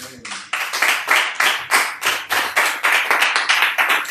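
A church congregation claps in steady rhythmic unison to acclaim the Lord, with loud, sharp, evenly spaced claps at about two per second, close and continuous and without speech.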